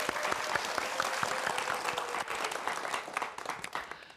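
Lecture audience applauds a physics professor's talk, dense steady clapping from many hands filling the hall, fading slightly at the end.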